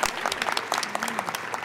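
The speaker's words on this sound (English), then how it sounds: "So a big round of applause to the foundation." Audience applause at a Fight for $15 campaign event: a scattered round of clapping from a crowd, steady and moderately loud for the whole stretch, with no talk over it.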